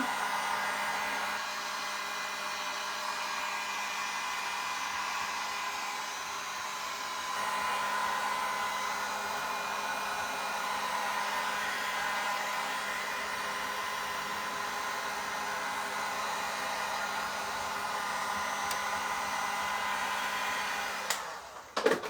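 A hair dryer blows steadily on a freshly painted blue-and-yellow DIY craft project, a loud continuous whoosh that shifts slightly partway through and clicks off at the very end, with no talking.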